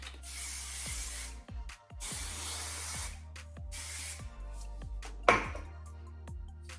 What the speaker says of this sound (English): take my Verb Ghost Dry Oil and just lightly spray my hair all over